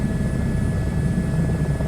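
Helicopter rotor in Microsoft Flight Simulator 2024 during a hoist rescue flight, a steady, loud low-pitched throbbing drone that holds evenly throughout with no talk over it.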